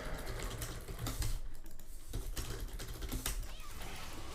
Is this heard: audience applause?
no